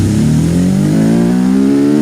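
Engine of the CJD Special, an SBR4-based car in BeamNG.Drive, roaring loud and close with a rising rev as it catches and climbs in pitch, alone without talk.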